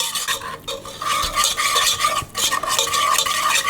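Caster sugar is stirred into melted butter for a Swedish sticky chocolate cake, a close, continuous gritty scraping of a spoon around a bowl in quick rhythmic strokes.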